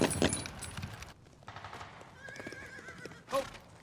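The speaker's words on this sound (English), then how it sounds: "White horse. Beautiful white horse." A horse neighs in a war drama scene, its whinny rising loud near the end of the stretch, with clip-clop hooves and muffled background sounds around it; a beautiful white horse is the one on screen.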